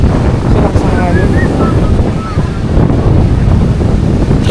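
Waves wash in on a Boracay beach under strong wind that buffets the microphone, a loud and constant roar with faint high calls drifting through.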